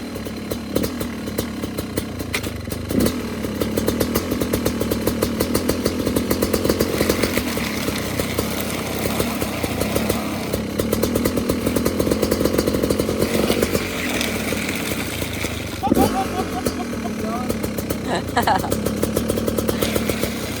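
A dirt bike fitted with a bubble-wrap tire runs with a rough, clattering engine note that holds steady throughout, with people talking over it.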